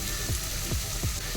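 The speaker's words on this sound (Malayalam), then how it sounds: "ഇതിലോട്ട് അരിഞ്ഞു വെച്ചിരിക്കുന്ന ഉള്ളി ഇട്ട് കൊടുക്കാം." Chopped onion dropped into hot oil in a pan, frying with a steady crackling sizzle throughout, plus a few soft low thuds as pieces land or are moved.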